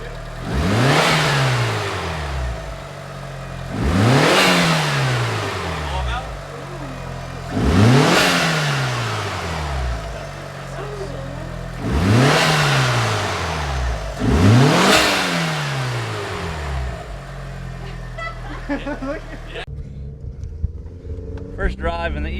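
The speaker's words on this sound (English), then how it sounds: "First drive in the Evo since the new intake's been installed. I'm excited to hear it" Mitsubishi Evo V with a newly installed intake revving repeatedly, five strong rises and falls in pitch in an even rhythm, close and loud inside the car, then settling toward idle with faint clicks at the end.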